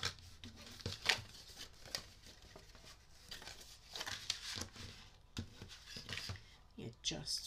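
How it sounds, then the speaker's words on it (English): Paper being folded along score lines for an envelope treat box, soft close creasing, rubbing and crinkling in irregular bursts, quiet throughout. "We're just going to keep folding on all of those score lines."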